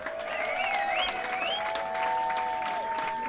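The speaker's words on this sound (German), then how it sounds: "Applaus für Beat!" An audience applauds a producer at a beat-battle event, continuous clapping mixed with bright tonal music sounds running underneath.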